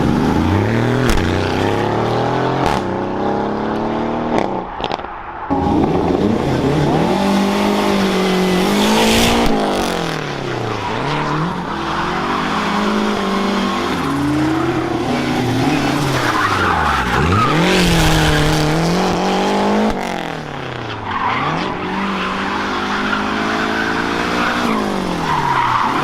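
An Aston Martin race car driven flat out around a circuit at the Carburacoeur 2024 event, its loud engine rising and falling through repeated sweeping gear changes, with tire squeal, steady and close for the whole stretch.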